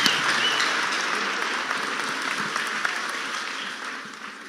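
Church congregation applauding together, a dense burst of clapping from many hands that stays loud and full before gradually fading toward the end.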